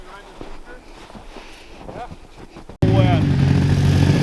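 A Kawasaki KFX 700 quad bike rides through snow. A faint engine drone under soft voices gives way to a loud, close burst of engine and wind rumble that continues to the end.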